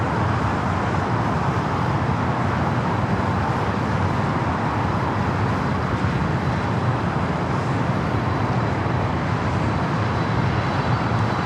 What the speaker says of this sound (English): It's a 747 on parade on Alpha.